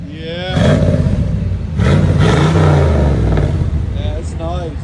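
A truck fitted with a high flow catalytic converter revs in rising bursts, a loud throaty roar under a steady idle rumble, with people talking nearby over the engine.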